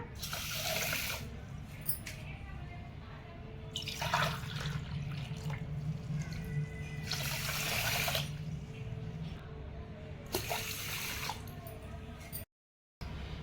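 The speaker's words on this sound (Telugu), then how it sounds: "ఇప్పుడు మూడు గ్లాసులు వాటర్ పోసుకుందాం" Water poured from a glass onto washed basmati rice for fish biryani, in several steady splashing pours that swell and fade across the clip, fairly close, with a brief silent gap near the end.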